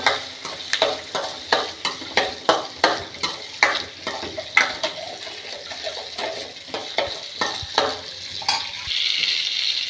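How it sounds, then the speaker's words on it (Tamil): Small onions for coriander chutney sautéing in a pan, sizzling steadily under rhythmic scraping stirs of a spoon against the pan, close and fairly loud, the sizzle lingering alone at the end with no talking. "இதை நல்லா வதக்கலாம் சின்ன வெங்காயம் போட்டிங்கனாலே"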